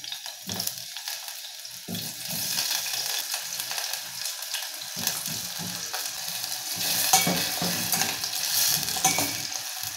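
Potatoes fry in a pan of hot oil for a budget kaldereta, a loud continuous close-up hiss and crackle with occasional stirring clunks, no voices over it.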